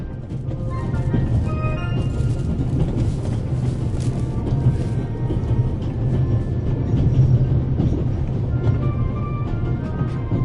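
Steady low rumble of an Orient Express train ride in The Raven, a continuous rolling hum with faint rattles and clinks running unbroken throughout.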